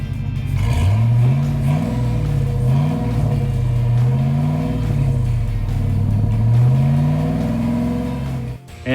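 A 2003-2006 Chevrolet Silverado with the 5.3L V8 and an MBRP 3-inch exhaust idles with a deep rumble and then revs repeatedly, the engine note rising and falling in a loud, steady wave close by.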